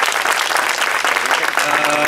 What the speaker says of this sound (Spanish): un aplauso para nuestros actores sordos